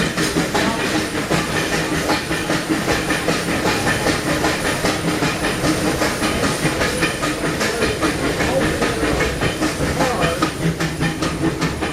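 The Disneyland Railroad train rolls steadily along the tracks with a continuous rumbling clatter and rhythmic clacking of wheels, loud and close, with a faint hiss throughout.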